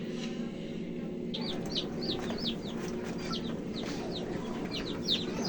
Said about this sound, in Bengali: তো আমার মুরগিগুলো কেমন আছে কোন বয়সের এটা আমি আপনাদেরকে দেখাচ্ছি